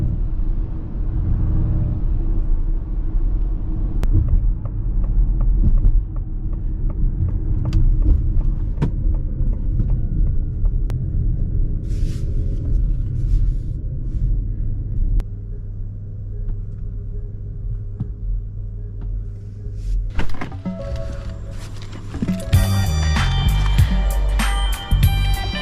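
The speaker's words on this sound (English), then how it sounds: "tonight we did drive the Mustang Mach-E" A 2024 Ford Mustang Mach-E electric car driving at night, heard from inside as a steady low road and tyre rumble with a few rattles and clicks near the end.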